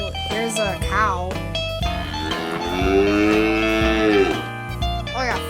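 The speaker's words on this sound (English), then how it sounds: "well, here's a cow" A cow lows in one long, drawn-out moo at close range, set among other short tonal sounds and a busy background.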